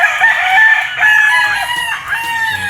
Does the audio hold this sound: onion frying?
no